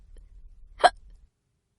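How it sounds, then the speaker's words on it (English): One single loud hiccup from a cartoon cat rises sharply out of a faint low hum, followed by silence. "Pete still has the hiccups."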